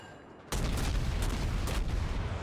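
A World of Warships Sims destroyer firing a naval barrage at an enemy Nuremberg cruiser: a sudden loud onset, then dense sustained gunfire with repeated sharp cracks over a heavy rumble.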